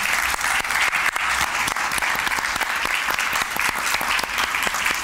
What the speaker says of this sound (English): I want to please ask the audience to help me with a round of applause for our speakers.